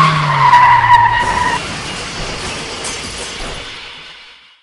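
The tires of a Porsche Spyder squeal loudly as the car swerves at a highway intersection. A tonal screech comes first, then a long gritty skid that fades out.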